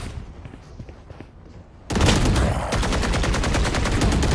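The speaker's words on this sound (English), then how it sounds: "What is he shooting at?" Gunfire in a professional Valorant match at a VCT EMEA Kickoff event, a muffled lead-in, then a loud, sustained automatic burst of rapid evenly spaced shots close up that runs to the end.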